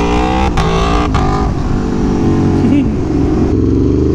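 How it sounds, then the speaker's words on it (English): Aprilia Tuono V4 Factory motorcycle revving and accelerating hard with a loud, steady engine roar, its pitch climbing and shifting through gears as a rider speaks over it. "open the throttle, accelerate!"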